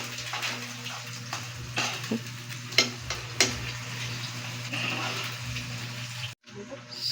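Water running from a hose into laundry basins at an outdoor washing area, a steady close hiss of flowing, splashing water with a few clanks of handling, continuing for several seconds before briefly cutting off near the end.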